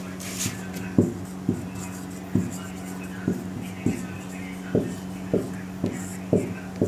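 Pen writing on paper during an ITI electrician practical exam, a steady series of short scratchy strokes roughly every half second, close and distinct over a constant low electrical hum.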